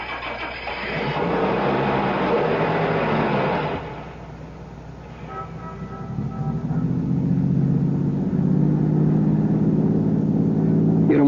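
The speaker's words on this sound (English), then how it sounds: "Start the car." A car engine cranks and turns over in a tense audio-drama scene, then settles into a steady running drone as the car pulls away, with a voice speaking briefly over the early part.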